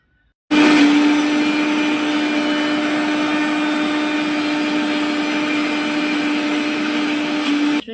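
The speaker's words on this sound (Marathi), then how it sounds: "त्यानंतर आपण जी भिजत टाकलेली तूर डाळ आणि हरभऱ्याची डाळ होती ते सुद्धा एक प्रकारे मिक्सरमधून बारीक करून घेऊ" A mixer grinder grinding soaked toor dal and chana dal starts abruptly and runs at a loud, steady whine for several seconds before cutting off.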